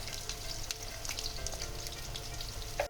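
Potato pieces frying in a pan with turmeric powder, a steady soft sizzle with faint crackles running throughout, close and fairly quiet.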